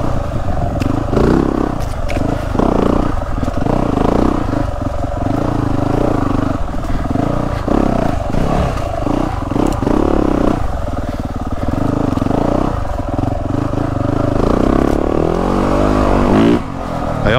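A 2023 Yamaha YZ450F dirt bike running a 350-style engine map rides through woods, its loud engine revving and dropping continuously up close with clattering over rough terrain.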